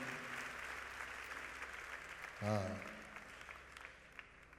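A church congregation at a French-language prayer service applauds, producing faint, steady clapping with a brief voice or sung note in the middle.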